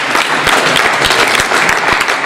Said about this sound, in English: Let's have a big round of applause for Jamie and John.